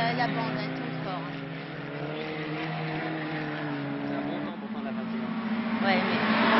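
A Gordini race car engine drones steadily with rising and falling harmonic tones, roaring continuously from start to finish as if passing on a track, with no voices.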